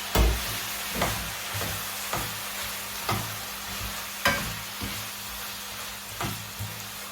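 Boiled jackfruit pieces tipped into a hot pan for a wet curry and stirred, a steady close sizzle broken by regular spoon scrapes and knocks about once a second.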